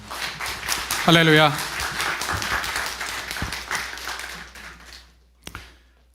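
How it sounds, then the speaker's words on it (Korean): A church congregation at a Sunday worship service claps to welcome the pastor, with a dense burst of applause mixed with voices and a call from the crowd, fading out after about five seconds and ending in a sharp tap. "박수로 우리 목사님 환영하겠습니다."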